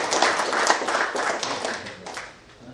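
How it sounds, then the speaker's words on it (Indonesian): An audience at an official gathering with Governor Jokowi applauding, a dense burst of many hands clapping that holds steady and then fades out near the end. "Mari kita berikan aplaus."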